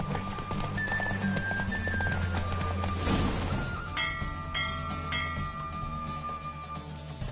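A horse galloping in the video game The Witcher, steady rhythmic hoofbeats under a continuous bed of game music and ambience.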